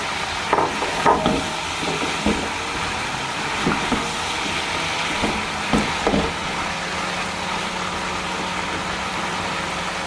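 Vegetables for a mixed sabzi being stirred in a pan with potatoes added, giving soft scraping and a low steady sizzle, with a few louder knocks early on and a faint hum beneath throughout.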